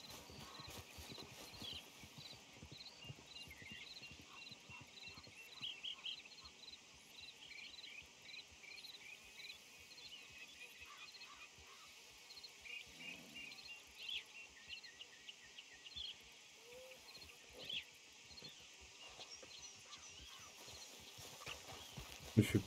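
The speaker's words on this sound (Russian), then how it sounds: "Нифига себе такая манерная лошадушка" Horse hooves clip-clop steadily in Red Dead Redemption 2, a faint rhythmic walking beat over an outdoor bed of chirping crickets and insects, with occasional soft thumps.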